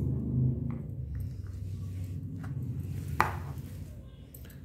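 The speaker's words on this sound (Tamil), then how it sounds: "எவ்வளோ முடியுமோ அவ்வளோ சின்னதாக கட் பண்ணிக்கோங்க" Quiet indoor snips from cutting plastic tube into small pieces for basket weaving, a few soft irregular clicks with one sharper snap, over low background rumble.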